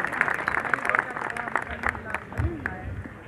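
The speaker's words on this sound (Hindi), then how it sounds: "जोरदार ताली बजाकर एक बार सब।" An audience at a community gathering breaks into scattered, uneven clapping that runs throughout, mixed with a speaking voice and crowd murmur.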